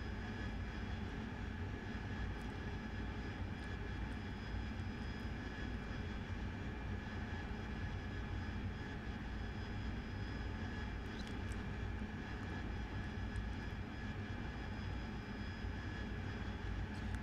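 In the DCS flight simulator, the AV-8B Harrier's jet engine runs up under throttle as a constant broadband roar with a steady whine, even and unbroken throughout, with no voices.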